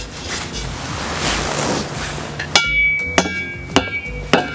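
Hammering in a horse setting, four sharp metallic blows spaced about half a second apart, following a stretch of rushing, wind-like noise.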